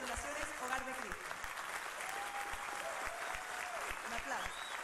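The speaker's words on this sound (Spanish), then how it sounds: "Un aplauso." Audience at an industry awards ceremony claps steadily for a prize recipient, a dense wash of applause with a voice speaking over it.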